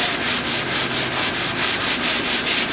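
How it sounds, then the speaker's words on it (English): Quick sanding of a wooden board in a van build, a close, loud, rhythmic rasping in even back-and-forth strokes, about four per second, with no voices. "So I'm doing a quick sand here."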